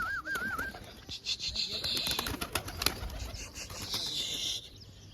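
Pigeons flutter and coo while being fed mixed grain, wings flapping in short bursts close by, as a person calls out to the flock.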